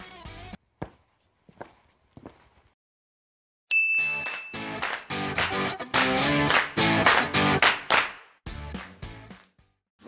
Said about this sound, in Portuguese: Então, roda essa vinheta!